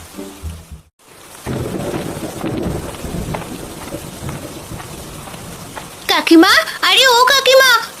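Rain falls steadily with rumbling thunder through a monsoon storm, a deep rumble opening the scene before broad rain noise sets in, and a voice is heard briefly near the end over the downpour.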